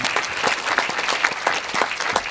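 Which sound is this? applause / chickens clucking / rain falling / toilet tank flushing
applause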